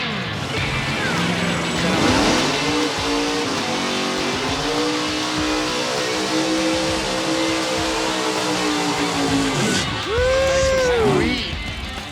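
A drag racing car does a long, loud burnout, its engine revving hard and tires screaming steadily, then a sharp rev rise near the end.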